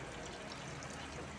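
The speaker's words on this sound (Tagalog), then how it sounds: "Yung ating pangalawang gata, ibubuhos ko na din siya para maluto siya." Coconut milk being poured into a cooking pot for ginataang bilo bilo, a steady faint liquid pour and trickle heard close up and without pause.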